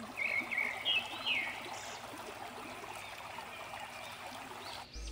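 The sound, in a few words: cold stream water flowing over black rocks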